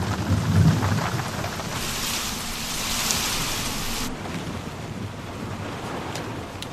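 Heavy rain pours steadily in a film scene, with a loud rumble of thunder near the start and a dense, constant wash of downpour throughout.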